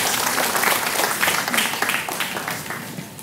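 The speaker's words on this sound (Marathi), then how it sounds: "जोरदार टाळ्या मित्रांनो, जोरदार टाळ्या." An audience on a Marathi TV show applauds with a dense, steady roar of clapping that fills the whole moment and fades slightly at the end.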